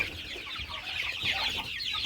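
Soft, continuous chirping and clucking from young naked-neck chickens close by, a busy overlapping chatter with no voices.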